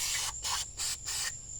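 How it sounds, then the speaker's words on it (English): Cleaner is sprayed into the carburetor of a 1988 GMC 350 5.7 engine in four short, sharp hissing bursts separated by brief pauses, close to the source and fairly quiet. "We're going to give her a little spray down."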